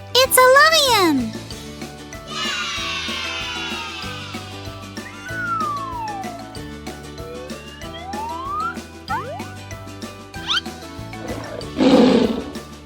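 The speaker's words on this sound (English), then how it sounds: "It's a tiger." A tiger gives a loud growling roar near the end. Before it comes a string of varied animal calls and sweeping tones, with a voice heard at the start.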